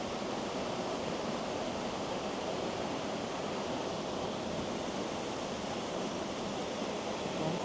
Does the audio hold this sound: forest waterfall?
yes